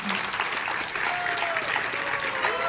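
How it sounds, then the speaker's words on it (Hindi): An audience at an ISKCON devotional gathering in Chandrapur claps to welcome a speaker to the stage: dense, steady, fairly loud applause that holds evenly throughout, with no speech over it. "तो आइए तालियों के साथ बुलाते हैं हिज ग्रेस अमोघ लीला दास प्रभु जी।"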